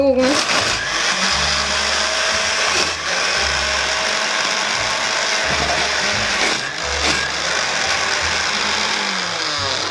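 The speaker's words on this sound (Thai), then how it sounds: "เครื่องปั่นมันก็เก่ามา" A blender blending a milk drink whirs loudly and continuously, its old motor's pitch dipping and surging as the contents churn, recorded up close.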